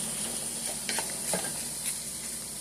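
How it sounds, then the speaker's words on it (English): Meat frying with red peppers in a pan for cheese steak fries, a steady soft sizzle with a few brief stirring scrapes, close and moderately quiet, no talking. "So I just go ahead and let my meat cook up."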